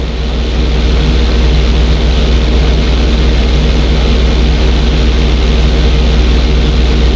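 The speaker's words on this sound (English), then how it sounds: "When you're fully inverted, then roll the plane over." Stunt plane engine droning steadily and loudly through an aerial roll in the video game GTA 5, a constant propeller hum with no pauses.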